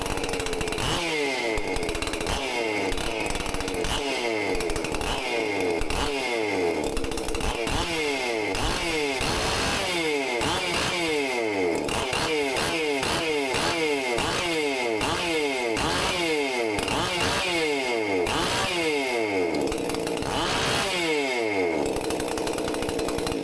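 A Stihl chainsaw fitted with a modified muffler roars at full throttle on a dyno, loud and close, with a continuous raspy engine note and repeated rhythmic load surges throughout.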